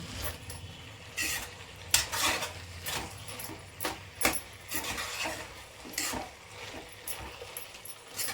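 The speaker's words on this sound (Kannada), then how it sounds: "ಶುಂಠಿ ಬೆಳ್ಳುಳ್ಳಿ ಪೇಸ್ಟ್ ಹಾಕಿ ಹಾಗೆ ಬಿಟ್ಬಿಡ್ಬೇಡಿ ಸ್ವಲ್ಪ ಕೈ ಆಡಿಸಿ ಇಲ್ಲಾಂದರೆ ತಳ ಹಿಡಿಯುತ್ತೆ" Ginger garlic paste and onions stirred in a pan for a potato and green peas kurma, with scraping and clinking of a utensil against the metal in irregular strokes, moderately close.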